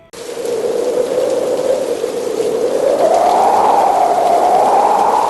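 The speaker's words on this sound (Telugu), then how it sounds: "అంతలోకి ఒక పెద్ద గాలి దాంతోపాటు వర్షం దూకుడుగా వచ్చింది" Heavy rain pours down steadily with a whooshing wind swelling and rising in pitch over it, loud and continuous throughout, in a Telugu audiobook story.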